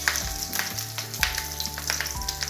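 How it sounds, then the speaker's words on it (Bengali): Fish wrapped in banana leaf frying in a little oil, a close, crackling sizzle with scattered pops and spatters over a steady hiss. "এই যে কলা পাতায় মুড়িয়েছি মাছটা, এবার আমি এটাকে হালকা তেল দিয়ে এটা ভাজতে দিয়ে দেবো ফ্রাইটার মধ্যে।"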